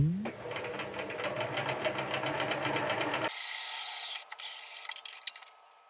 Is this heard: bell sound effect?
no